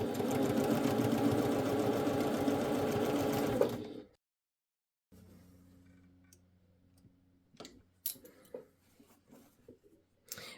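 A sewing machine stitches a fabric pouch in a fast, steady mechanical whir for about four seconds, then stops; a faint hum follows, broken by a few scattered clicks and taps nearby.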